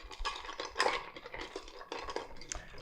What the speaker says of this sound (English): Give our cocktail a nice stir.